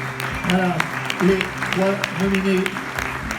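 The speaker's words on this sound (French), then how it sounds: "On peut les applaudir également." At La Mayenne Innove 2019, an awards event, the audience claps for the nominees, a brief burst of applause as a presenter keeps speaking over it.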